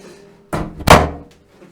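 A bathroom door aboard a Spirit Yachts Anima 2 yacht swings and shuts with a solid thud, then a brief echo rings out in the quiet, slightly boomy room.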